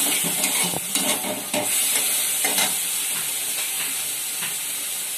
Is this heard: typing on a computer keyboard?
no